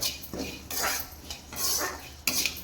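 Black urad dal being dry roasted in a pan, with scraping, rattling stirs of the lentils against the metal in several rough bursts, close and moderately loud, with no speech.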